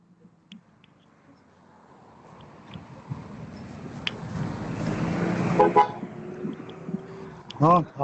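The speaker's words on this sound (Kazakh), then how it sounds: "Но автобус проехал, поддержал по сигналу" A bus drives past at a street picket, its engine growing louder as it nears, then gives a short honk of its horn near the end, with voices around.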